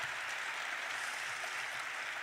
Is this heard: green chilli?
no